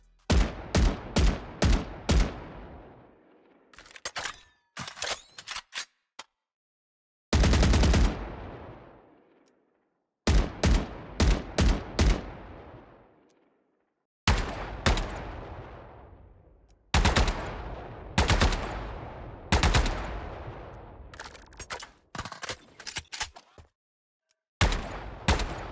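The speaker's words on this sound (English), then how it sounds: "Next, let's listen to the shooting sounds." Bursts of gunfire from the Rogue and Phaseguard Vandal skins in Valorant: rapid automatic volleys with sharp cracks, separated by short silences, loud and close with no talking.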